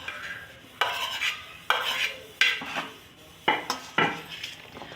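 Chana chaat ingredients with macaroni, spaghetti, tomato, onion and potato being tossed together in a bowl; a series of sharp spoon clatters and scraping swirls at an irregular beat, close up with no talk.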